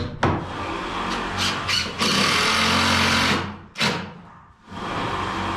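A power drill snugs screws into a door frame shimmed during a door installation, in several short whirring bursts and one longer sustained run, close and fairly loud, with no talking.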